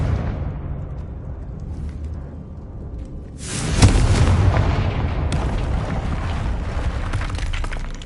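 A Confringo blasting spell detonates in a Harry Potter video game, a sudden loud boom with a deep low thump that gives way to a sustained, broad rumbling roar lasting several seconds.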